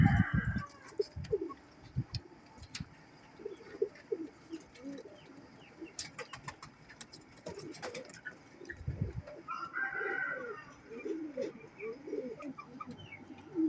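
Pigeons kept as a pair in a loft coo softly and repeatedly, low rolling calls overlapping close by, with occasional chirps and a few sharp knocks.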